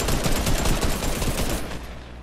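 Rapid bursts of gunfire from the video game Fortnite crackle loud and dense for about a second and a half, then thin out and fade toward the end, with no voices.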